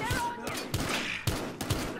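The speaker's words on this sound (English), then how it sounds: "Gunfire reported." Several sharp gunshots ring out in a quick irregular volley in the video game Battlefield Hardline, each a loud percussive burst with reverberant tails, mixed with game sounds and shouting.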